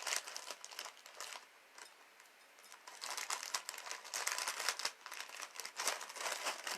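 Paper crinkles and crumples in rapid, irregular bursts close by while cloves and allspice are prepared for a Four Thieves vinegar. It continues for several seconds, slightly quieter in the middle, with no talking.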